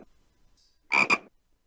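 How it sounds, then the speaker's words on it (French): A frog by a forest river gives one close, loud double croak, two quick raspy pulses in near silence with faint stirrings before it. "près d'une rivière où les grenouilles coassent"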